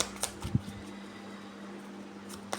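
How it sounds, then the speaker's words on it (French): An electric fan runs in a hot office, giving a steady low hum and airy hiss throughout, with a few faint clicks and knocks over it and no talk. "Alors j'ai mis le ventilateur."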